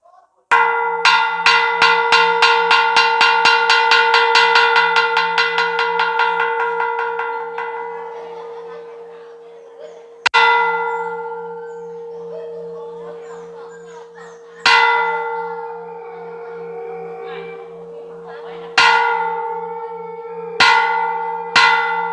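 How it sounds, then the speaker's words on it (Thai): A temple bell struck before funeral rites rings out with a quick run of many strikes at first, then three more single strikes spaced apart, each leaving a long resonant tail that slowly fades. "เดี๋ยวขออนุญาตเคาะระฆังก่อน"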